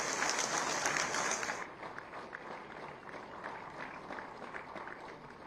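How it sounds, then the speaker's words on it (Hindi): An audience at an official loan-distribution ceremony applauds in a steady, fairly soft patter of many hands, the sound muffling slightly after the first couple of seconds. "आप सभी की अनवरत तालियां इन क्षणों के लिए अपेक्षित है।"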